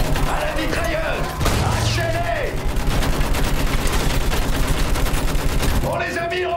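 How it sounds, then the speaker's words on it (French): Sustained automatic weapon fire in a First World War battle in Battlefield 1, dense rapid bursts running almost the whole time, with shouted voices over the shooting. "À la mitrailleuse!"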